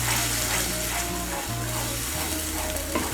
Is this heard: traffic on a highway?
no